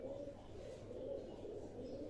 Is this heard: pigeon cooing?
yes